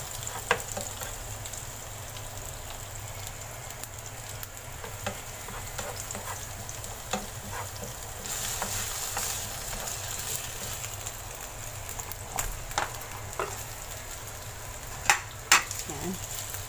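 Vegetables and potatoes for a Filipino tilapia pochero sizzle steadily in a pan, with a constant frying hiss, occasional stirring clinks and a louder burst of sizzling partway through.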